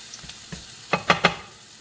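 Zucchini and yellow squash sizzle softly in a pan, a quiet steady fry broken by a few sharp clacks of stirring near the end.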